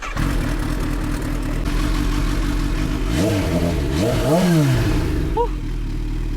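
Kawasaki Z H2 motorcycle engine running loud and close, idling then revving up in rising and falling sweeps, with a muffled voice faintly underneath.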